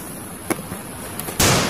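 Gunfire from an M4 rifle in a shooting video game: a sharp single shot, a fainter pop, then a loud, sustained burst of noise at the end, with no talking.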